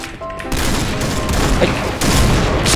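Rapid gunfire rattles through a first-person shooter game featuring a DSR-1 sniper rifle, a dense, loud continuous burst with a short pause, close and filling the mix with no clear speech.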